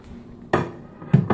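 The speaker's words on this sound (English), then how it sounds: "Salisbury steak patties back to it. Just going to drop them right down in there." Salisbury steak patties dropped into a pan of boiling mushroom gravy, with several sharp, close clanks and knocks of utensils against the pan in quick succession, and no talking.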